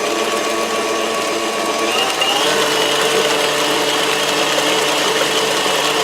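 An electric mixer blends banana bread batter in a constant, loud motor whir that holds steady without a break from start to finish.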